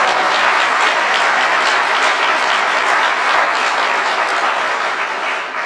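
Loud, dense applause from a large audience at an ADA anniversary speech fills the clip with a continuous roar of clapping from start to finish.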